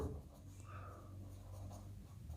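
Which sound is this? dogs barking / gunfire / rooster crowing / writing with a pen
writing with a pen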